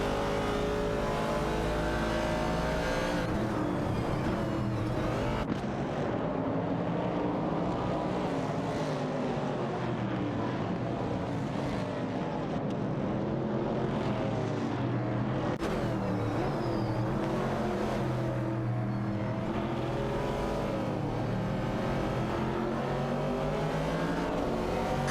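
Race cars running on a track in an AI racing game, loud continuous engine roar with rising and falling revs as cars slipstream and pull alongside on a straight, no talk.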